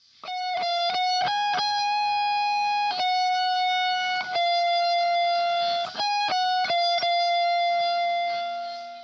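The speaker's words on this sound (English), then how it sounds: "And this is the lead guitar part." A lead electric guitar plays a melodic line of sustained, singing notes with quick note changes, clear and prominent with no other instruments.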